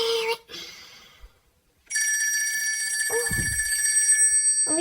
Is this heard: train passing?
no